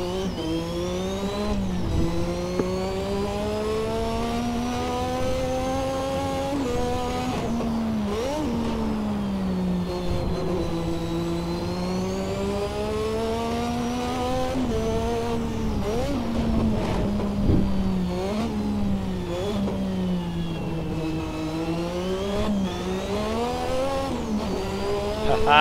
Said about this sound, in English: Just love that bark that it gives you at mid revs when you get back on the throttle.